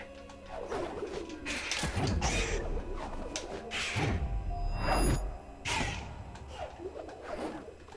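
Owl sounds from the video game Ori and the Blind Forest: soft hooting coos and swooshing wingbeats in a forest scene, recurring at irregular intervals at moderate volume against ambient game music.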